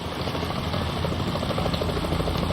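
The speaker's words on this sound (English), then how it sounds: "Is that a chopper I just heard?" A helicopter approaching in the Metal Gear Solid video game, a steady loud rotor drone with a rapid rhythmic chop that fills the short stretch, close and with no talk.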